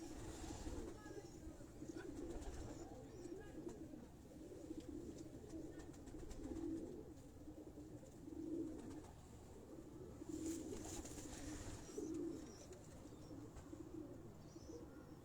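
Golden pigeons on a rooftop coo in repeated soft, throaty rolls, several calls spaced a couple of seconds apart over a low background hum, fairly close.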